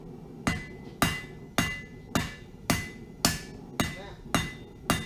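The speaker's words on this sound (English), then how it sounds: "So, out of the fire and back onto the anvil we go." Hot metal struck on an anvil while forging the stem of a leaf, nine sharp ringing hammer blows at a steady, even rhythm, each with a short metallic decay, close and loud with no talk.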